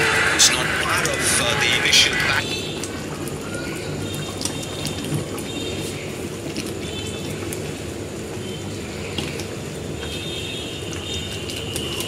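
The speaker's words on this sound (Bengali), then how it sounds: "দেখো বন্ধুরা ঝোলটা ফুটছে, দেখো কত সুন্দর টকবক টকবক করে আওয়াজ হচ্ছে" Chicken curry boiling in a pot at home, giving a steady bubbling, simmering wash that runs close and continuous, with a louder, sharper patch at the start and a voice talking over it.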